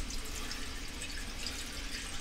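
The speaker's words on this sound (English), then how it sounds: "So we're going to put filtered water in there." Filtered water pours steadily into a container, a continuous close splashing hiss with no pauses and no talk.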